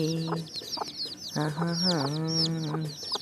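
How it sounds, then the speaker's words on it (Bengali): Chickens and chicks in a village yard cluck and peep close by, with repeated short calls and a longer drawn-out cluck in the middle. "কতগুলো মুরগি বাচ্চা আছে"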